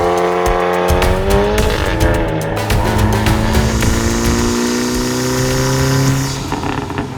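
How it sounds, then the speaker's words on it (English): A VW Golf 8 R drives hard, its engine note rising and falling through gear changes with loud, steady road noise and possible tire squeal throughout, no talking. "So currently we're driving in the Golf 8R"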